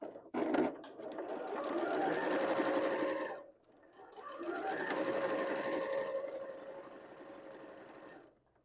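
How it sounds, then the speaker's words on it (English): A sewing machine stitches two quilting fabrics, right sides together, with a quarter-inch seam, running in two long steady close runs whose motor pitch rises and falls, with a short pause between. "we'll place those right sides together and we'll sew them with a 1/4-inch seam"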